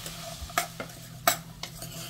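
Mutton fries in a pan with turmeric, red chili powder and salt, a soft sizzle under a few sharp scrapes of a spoon stirring against the pot, quiet and close.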